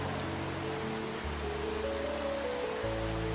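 Steady rain falls in a soft, even hiss with a faint patter of drops, continuous and close, with a low hum running beneath it.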